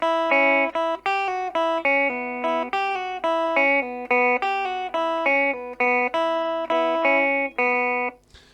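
A clean electric guitar plays a quick run of rockabilly pull-offs, notes one after another in a steady rhythm, clear and close with no talking.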